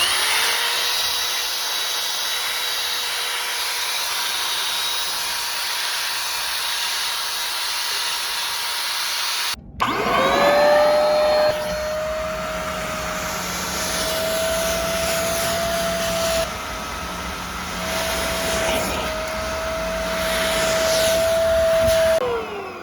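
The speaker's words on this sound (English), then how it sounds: "And that's like 5 minutes of vacuuming." A vacuum cleaner works over the carpet inside a Honda Civic, a loud continuous whining hiss that cuts out briefly and restarts with a rising motor tone, then runs steadily with shifting suction as it moves.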